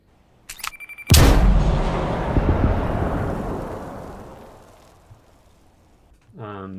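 A deep, boomy sound-effect explosion, made from recorded shower curtains rather than real explosions, slams in after a brief high tone, then rumbles and decays over several seconds before a faint voice-like sound at the end.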